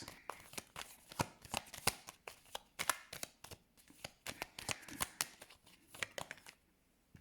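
Tarot cards are shuffled and laid down in quick, crisp flicks and soft slaps, an irregular run of close, quiet riffling taps that fades toward the end.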